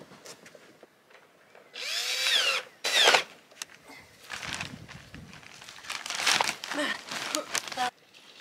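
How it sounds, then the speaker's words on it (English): A power drill whirs in short bursts, revving up and cutting off, drilling a hole in a garden container, mixed with rustling and crinkling between runs. "I'm gonna drill a hole where the rocks end on"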